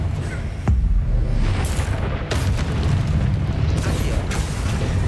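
A Confringo blasting curse goes off in Hogwarts Legacy as a loud booming blast. A deep rumble and crackling debris follow and carry through the clip, with further bursts over dense game sound.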